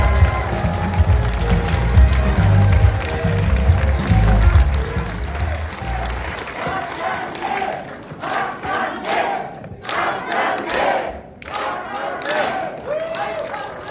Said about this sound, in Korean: 박찬대 최고위원을 큰 박수로 앞으로 모시겠습니다